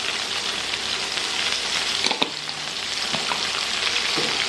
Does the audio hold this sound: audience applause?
no